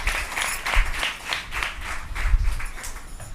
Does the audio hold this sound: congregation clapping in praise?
yes